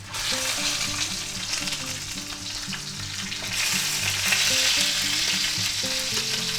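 Thick boneless pork chops, already cooked sous vide, sear in a pan on a burner with a loud, steady close-up sizzle that swells and crackles more intensely partway through, alone with no talk.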